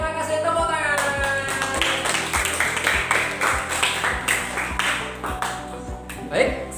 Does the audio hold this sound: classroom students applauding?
yes